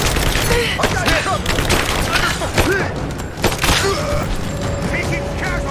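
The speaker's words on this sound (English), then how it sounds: "Give me suppressing fire! Now!" Gunfire in a village firefight in Rise of the Tomb Raider: a steady, loud barrage of shots and booms, with shouted voices over the shooting.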